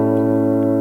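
An A dominant 7 chord sounds as one sustained, even tone with layered harmonics, held alone in a jazz progression, with faint ticks above it.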